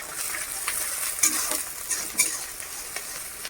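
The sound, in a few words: chopped onions and garlic frying in a pan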